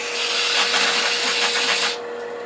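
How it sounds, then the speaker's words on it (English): A wooden rook chess piece box is sanded as it spins on a lathe, a loud, steady abrasive hiss over the motor's whine, close up, cutting off near the end. "I want to sand this area a little smoother here in the middle."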